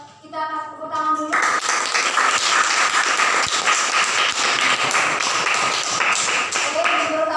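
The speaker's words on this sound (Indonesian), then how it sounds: "Jadi kita akan tepuk tangan dulu." Students in a classroom break into brisk, loud clapping after a short spoken lead-in, the rhythmic handclaps continuing steadily before a voice returns at the end.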